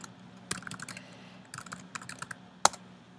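Keys clack on a computer keyboard during a programming lecture, quick bursts of close taps separated by pauses and ending with one sharp louder stroke.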